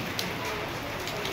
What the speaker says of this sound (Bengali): খুব বৃষ্টি পড়ছে